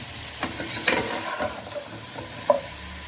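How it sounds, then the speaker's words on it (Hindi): Bone-in beef for aloo gosht fries in a pot with a moderate sizzle, broken by several scraping stirs and clinks of a spoon, close and without speech. "इसे हमने व्यूअर्स कम से कम भी 6-7 मिनट के लिए अच्छे से भून लेना है"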